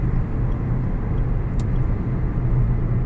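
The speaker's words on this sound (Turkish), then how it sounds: "Evet yine bir trafik." Steady road traffic rumble near a car repair garage, a continuous low engine drone with one vehicle passing close, no talk.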